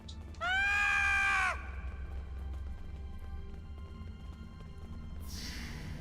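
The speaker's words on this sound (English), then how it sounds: "distant Ferengi scream is a fantastic sound effect" A distant Ferengi scream sound effect in the Star Trek Online video game: a shrill, wavering cry lasting about a second over a steady low ambient hum, followed by a soft rushing noise.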